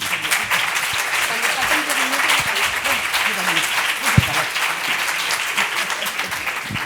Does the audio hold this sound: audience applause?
yes